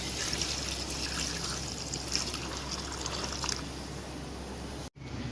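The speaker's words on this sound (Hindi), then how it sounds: "5 लीटर हम पानी ऐड कर रहे हैं।" Water poured into a cooking pot for beef paya, roughly five litres, a steady close trickle and splash running continuously before a brief cut near the end.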